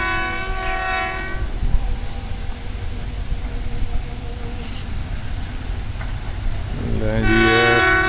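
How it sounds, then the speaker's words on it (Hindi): A train approaching a small railway station sounds its horn in two long, loud blasts, one at the start and one at the end, with a steady rumble of the moving train in between. "ट्रेन अप्रोच कर रही है जी"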